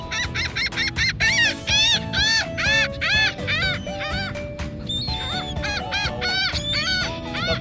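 Loud, dense calling of seagulls at Treasure Island, with overlapping squawks and laughing cries repeating nonstop close by, one bird answering another throughout.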